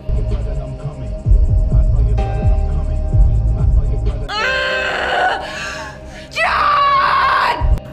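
A woman screams in two loud, strained bursts over a low droning hum, the second scream higher and more piercing.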